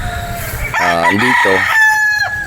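Gamefowl roosters on a game farm in Batangas crow close by, one long, loud cock-a-doodle-doo with clucking around it and a brief spoken word nearby.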